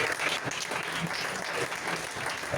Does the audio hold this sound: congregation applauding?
yes